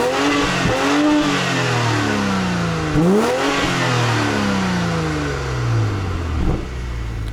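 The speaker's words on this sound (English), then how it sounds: "let me let you guys hear what that motor sounds like real quick." A 2019 BMW X5's single-turbo straight-six engine, 335 horsepower, revs repeatedly, rising and falling in several sharp throttle blips that sit loud and close, with a steady idle rumble between them and no talking.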